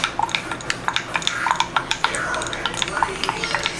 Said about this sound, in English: So I'm gonna mix it.